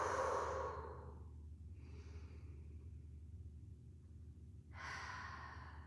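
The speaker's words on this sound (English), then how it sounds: "Send a breath, feel the tension, and then blow it out." During a yoga flow, a deep breath is drawn in and blown out, a soft airy exhale fading at the start, a faint quiet stretch, then another breathy rush near the end, close and unaccompanied by talk.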